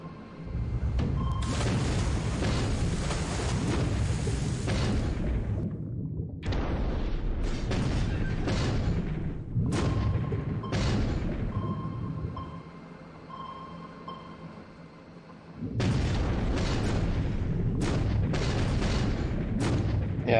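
Heavy, sustained booms and rumbling bursts from submarine torpedo fire in the naval war game War in the Pacific, filling long stretches with a short quieter gap, no voices.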